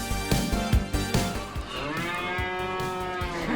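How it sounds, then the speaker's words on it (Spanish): Cow mooing while being milked in a Nintendo Switch 2 video game, a loud, drawn-out moo with several bellowing swells over a few seconds, heard alone without talk. "Ordeñando una vaca"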